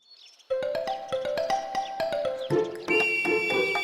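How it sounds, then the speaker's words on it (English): Cartoon train emerging from a tunnel in a children's animation, with bright chiming tones and tooting whistle-like notes over rhythmic repeated clacks, layered and growing fuller partway through. "That's the train coming out of the tunnel."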